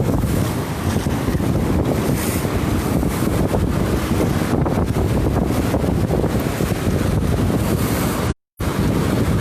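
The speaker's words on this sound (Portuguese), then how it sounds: "O vento é característico do cassino" Strong wind buffets the microphone at Cassino beach on a summer day, with steady surf roaring underneath; continuous, loud and close, with one brief dropout near the end.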